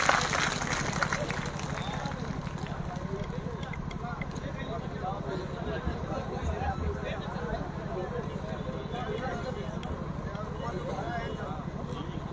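A dense rally crowd at a BSP public meeting in Jaunpur claps steadily and continuously, with a low hum and voices running underneath the applause.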